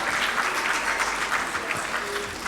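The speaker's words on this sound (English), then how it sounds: "A round of applause, please" An audience at the GMBF 2025 business forum claps steadily in a dense, even round of applause that fills the room for a few seconds without pause.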